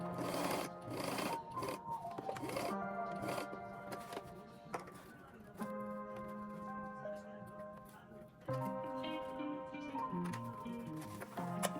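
A sewing machine stitches a crochet wig net, its mechanical whir and rapid ticking running steadily, with a person talking over it.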